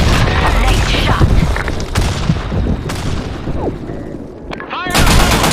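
Loud gunfire and a grenade blast from the shooter video game Insurgency: Sandstorm, with rapid shots and heavy booms layered over voices shouting in the game chatter.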